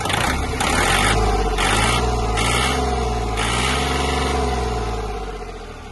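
A Japanese Kubota L1-185 mini tractor engine, running after its oil filter was replaced, is revved up from idle, rising and falling in pitch a few times, loud and close with no talk.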